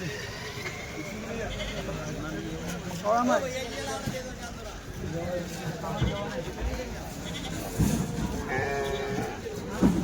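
Several goats being unloaded from a vehicle bleat, some close and some farther off, over the steady hubbub of a crowded outdoor goat market in Dhule with people talking throughout.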